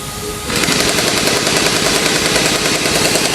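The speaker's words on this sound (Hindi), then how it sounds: "न्यूमेटिक गन से ओपन किया जा रहा है।" A pneumatic impact gun loosens the brake caliper bolts on a KTM Adventure 390 during servicing, firing a loud, continuous rapid hammering rattle that kicks in abruptly after a brief quiet start and runs steadily to the end.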